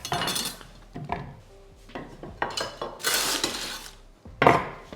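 Raw pumpkin pieces are set down skin side first into a tray, producing a series of close clattering knocks and scrapes of pan and cutlery, irregular and fairly loud with short pauses.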